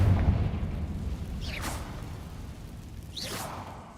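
Confringo fire spell bursting in Hogwarts Legacy: two separate whooshing, fiery blasts about two seconds apart, each a short rising swish over a steady low ambient rumble.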